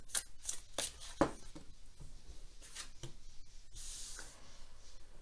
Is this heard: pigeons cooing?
no